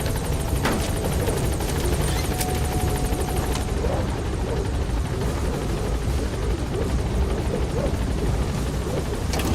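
The B-Quad helicopter from Metal Gear Solid V: The Phantom Pain thrums loudly and steadily at a landing zone, its rotor wash and engine filling the whole stretch with a few clicks early on.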